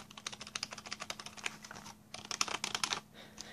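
Mechanical gaming keyboard being typed on, a quick run of sharp clicky keystrokes, a brief pause, then another burst, close up with no speech.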